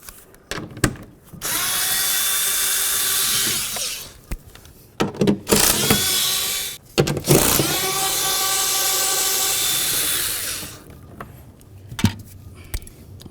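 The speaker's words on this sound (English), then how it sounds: "We're going to start removing all these 10 millimeter headed bolts." A power drill backs out 10 mm bolts from the door of a 2008-2012 Jeep Liberty during an outside door handle replacement, in three long whirring bursts with short pauses and small metallic clicks between them.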